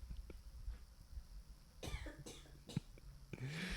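Several short, harsh coughs burst out close by, one after another, with quiet breathing between them.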